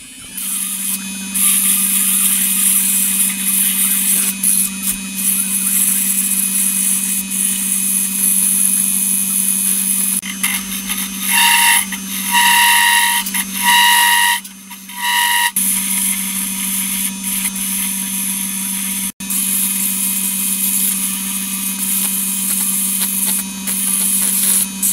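A power sander works the wooden handle of a collapsible catch pole, a loud steady high whine running nearly the whole time, with short pauses and pitch shifts as pressure changes.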